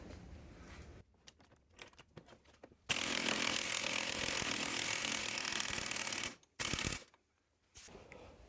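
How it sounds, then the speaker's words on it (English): Pneumatic air impact wrench driving the pinion nut on a Mopar 8.75 rear axle, a loud sustained rattling burst of about three and a half seconds, followed by a shorter second burst, with quieter workshop handling before and after. "I'm going to use the air impact to drive that on"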